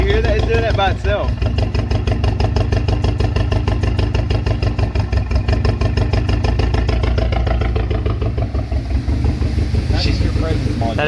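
A 2017 Camaro with the 2.0 turbo four-cylinder idles roughly with a bad misfire and dead cylinder, a loud, close, uneven chugging pulse with clattering beats, while people talk over it.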